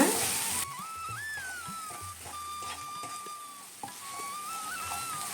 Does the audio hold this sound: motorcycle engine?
no